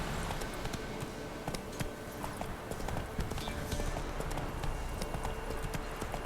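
Hoofbeats of the horse Roach trotting in The Witcher 3 Wild Hunt, a steady rhythmic clip-clop of close hooves running throughout over a soft outdoor bed, fairly faint overall.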